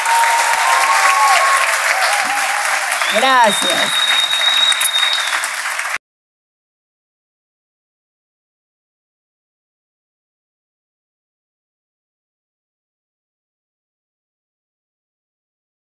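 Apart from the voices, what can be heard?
applause for a performer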